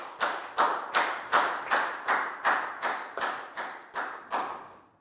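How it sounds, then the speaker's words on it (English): A small class of students claps for a classmate who did well in a Year 4 maths lesson, about ten distinct rhythmic claps, evenly spaced and fairly close, with no talk over them. "High five and a big round of applause for Pak Bung"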